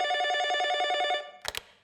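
A telephone bell rings in a fast, steady trill for over a second, loud and close, then stops with a couple of clicks as the handset is picked up. It signals an aunt's call after 25 years.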